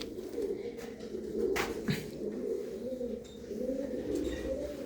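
A pair of pigeons, a red Cheena cock and a Dabbi hen, coo in a loft, soft throaty murmurs running steadily at close range over a low background hum.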